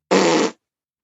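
A mouth-made imitation of a toot-style fart: one loud, buzzy blown raspberry lasting about half a second, close to the listener and alone, ending abruptly.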